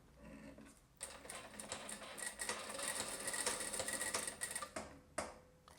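A sewing machine stitches a reinforcing seam across a folded fabric strip under a knot on a blouse, giving a rapid, rattling mechanical whir. It starts after a brief pause, runs close and fairly quiet for several seconds, then tapers off near the end.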